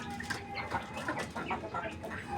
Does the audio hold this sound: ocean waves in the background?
no